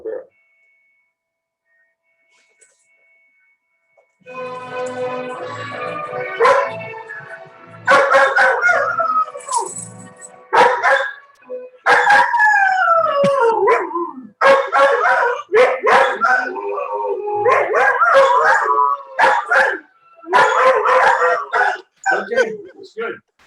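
A dog barks and howls in repeated loud bursts, with drawn-out wavering howls mixed among sharper barks, continuing steadily over more than fifteen seconds after a quiet start.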